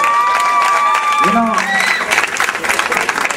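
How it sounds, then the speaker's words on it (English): An annual day audience applauds the teachers, sustained clapping rising beneath a speaker's voice, dense and moderately loud throughout. "they deserve a big round of applause"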